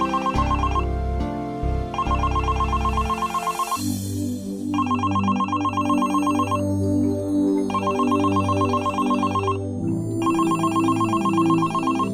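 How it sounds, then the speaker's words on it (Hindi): A telephone ringing in a home in the morning: a loud, bright electronic melody repeating in regular bursts with short gaps between phrases, sounding alone with no one speaking. "फोन उठाओ ना"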